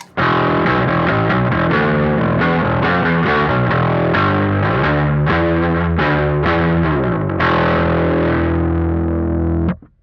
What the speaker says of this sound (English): Now let's go ahead and hear how circuit 1 sounds. Again, this is the Klon style circuit.